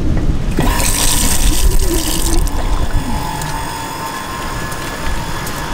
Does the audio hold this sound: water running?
yes